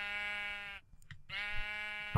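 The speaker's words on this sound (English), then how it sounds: "I want to find the sheep." A Minecraft sheep bleats twice in a row, two clear nasal wavering baas separated by a short gap, fairly close and alone, with a sudden thump right at the end.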